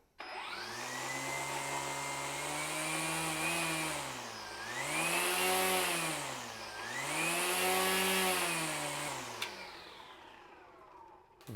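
Skil PWRCore 40v cordless string trimmer running close by, with a steady motor whine that swells and dips as the speed is raised and lowered, with no voices.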